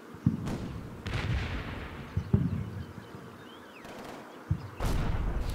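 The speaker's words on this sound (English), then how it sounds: "Still a continuous exchange of machine gun fire and small arms fire across the way" Bursts of machine gun and small arms fire from the Combat Mission wargame, several sharp reports spaced irregularly over a low rumbling background, moderately loud with no talk.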